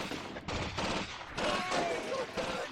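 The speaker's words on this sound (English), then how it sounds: "Got machine gunners covering it." Machine guns firing in Graviteam Fateful Strike: dense, continuous bursts of rattling gunfire that swell and overlap, with a voice talking over the barrage.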